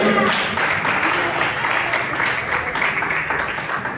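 A church congregation claps together in a steady broadband wash of applause, continuous and fairly loud throughout, with no voices standing out above it.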